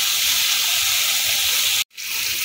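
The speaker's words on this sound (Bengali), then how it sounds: "গ্যাসটাকে হাইতে রেখে মশলাটাকে ভালো করে ভেজে নিচ্ছি।" Chana masala spice paste with tomato and a splash of water sizzles and fries hard on high heat, a steady loud broadband hiss that cuts out abruptly for a moment before resuming.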